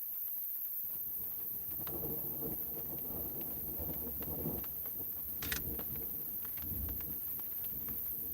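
Rain falls steadily as an incoming thunderstorm builds, with low rumbles of thunder rolling through and a brief sharp crack partway in; no voices.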